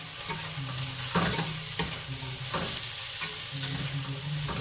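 Vegetables for a pasta dish are stirred with a spoon in a frying pan, a steady close sizzle broken by repeated scraping strokes of the spoon, with no one talking.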